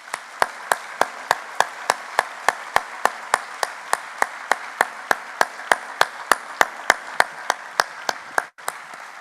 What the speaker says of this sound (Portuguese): E para eles, uma salva de palmas, por favor.